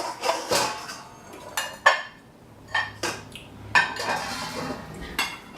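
Ceramic dishes and cutlery clink and clatter in a home kitchen as a serving bowl is pulled from a stack, a series of sharp knocks and scrapes spread over several seconds, close and fairly loud.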